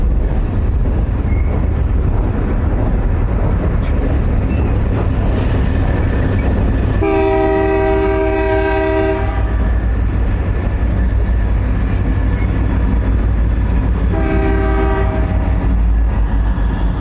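A train rolls past loudly and close, with a continuous heavy rumble, two long horn blasts about seven seconds apart and faint wheel clatter.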